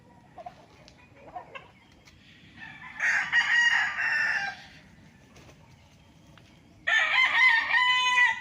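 Roosters on a game farm near Nagcarlan, Laguna, crow loudly twice, each crow lasting over a second, with a few soft clucks and faint farmyard sounds between them.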